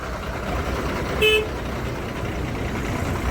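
Vehicle horns sound once in a ghat road traffic jam caused by a palkhi procession, a single short toot standing out over steady engine and road rumble.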